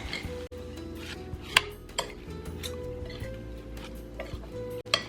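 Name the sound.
mixing coleslaw in a bowl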